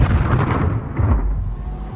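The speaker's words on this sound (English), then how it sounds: "German artillery and rocket launchers pound the American defenses." German artillery and rocket launchers fire in battle, a loud, deep rumbling blast with rolling booms that fade out over two seconds.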